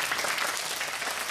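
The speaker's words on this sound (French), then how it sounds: "Est-ce qu'on peut s'applaudir bien fort?" Students from the EPV school in Abobo applaud together in a TV studio, a dense, steady wash of clapping that fills the whole short stretch at an even level with no voices on top.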